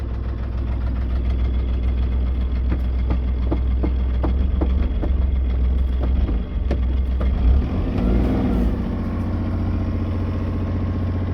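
A boat engine runs at higher revs while cruising on the water near Amble: a steady, low, throbbing drone holds throughout, with a faint rhythmic knock, and no voices are heard.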